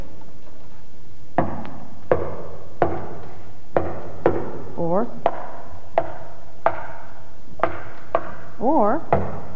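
Knuckles knock a steady rhythm on the wooden body of a double bass, giving evenly spaced sharp hollow taps, close and clear, with a voice briefly singing or humming between some of the knocks.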